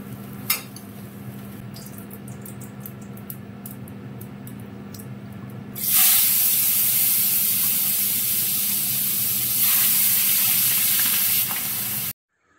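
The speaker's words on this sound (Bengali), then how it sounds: "ইলিশ মাছ ভাজাটা একটু হালকা ভেজে নেব" Hilsa fish frying lightly in hot oil in a home kitchen, a steady close sizzle that swells sharply louder midway as more fish hits the pan, with a brief clink near the start.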